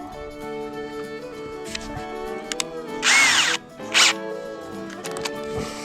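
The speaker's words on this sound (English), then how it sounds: "Probably take a smaller drill bit." Two short bursts of a power drill with a smaller drill bit whirring nearby during a truck fuel pump repair, separated by a brief pause, with quieter handling noises before and after.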